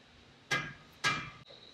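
Two sharp metallic hammer blows ring out about half a second apart, struck against the rear brake assembly of a Volvo 245, each one close and loud with a brief ringing decay.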